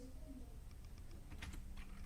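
Typing on a computer keyboard, a short run of faint, quick clicks in an irregular rhythm, quiet against a low background hum.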